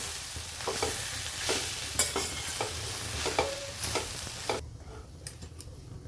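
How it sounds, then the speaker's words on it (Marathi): Grated boiled potato is stirred into poha in a pan, with repeated scraping and tapping of a spatula over a soft background sizzle, fairly close, and the frying noise drops away near the end. "बटाट्याचा लगदा तयार केलेला आहे खिसून तो याच्यामध्ये टाकू आता आपण हे सर्व मिक्स करून घेऊ"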